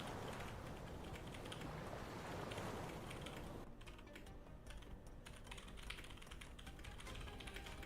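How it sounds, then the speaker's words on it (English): Loud, busy computer keyboard typing, rapid clattering keystrokes running steadily throughout, dense in the first half then slightly thinner and sparser, with no talking. "Very loud keyboard noises."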